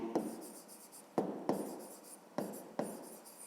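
A hand writes out a math solution, pen strokes scratching across paper in short bursts with sharp taps as the pen lands, close and quiet, with no talking.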